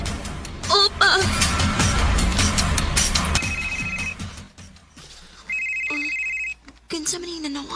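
Telephone bell ringing in a Cebuano drama scene, bursts of electronic ringing that come and stop, with loud talk and shouting before the first ring.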